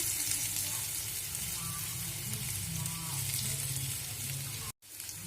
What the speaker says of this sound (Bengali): লাল লাল করে আগে আলুটা ভেজে নিচ্ছি।